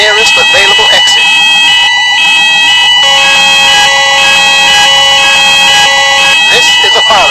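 A building fire alarm sounds loudly and steadily with sustained shrill tones, and a recorded voice message announcing an evacuation plays over it.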